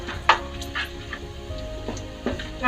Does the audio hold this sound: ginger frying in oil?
yes